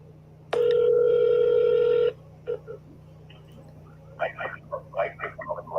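A phone call being placed: a single steady ring tone for about a second and a half, a few short beeps, then a recorded voice answering, all over a low constant hum.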